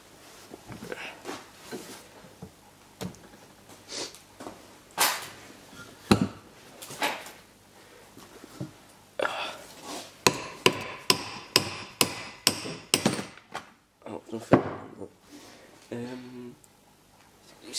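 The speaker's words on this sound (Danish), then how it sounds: "Men den skal egentlig bare hamres på" A part is hammered onto a small model windmill with a run of sharp, close knocks, sparse at first and then quicker and more regular, with short bits of speech between some blows.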